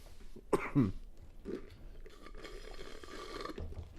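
A couple of sharp coughs near the start, followed by quieter throat sounds and low background noise.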